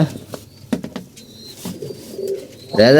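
Pigeons coo softly in a few low, throaty calls, with a burst of wing flapping near the end.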